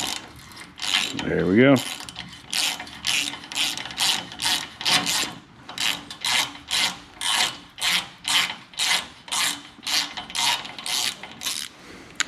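A hand tap cuts threads into a hole while a fuel tank is being installed on a 1972 Ford Courier with a 2001 Miata chassis. It makes a rhythmic, close rasping ratchet-like grind in repeated strokes, with a brief spoken remark early on.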